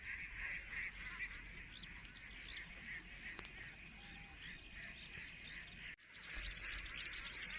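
A flock of ducks honks and quacks in a busy, overlapping chorus at a moderate distance outdoors, fairly faint under steady wind and ambient noise.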